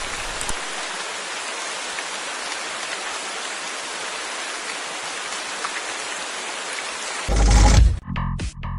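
Steady rain falls at a scout camp, a dense, even hiss of drops that keeps on with no pause, then a loud thud and a rustle cut in near the end.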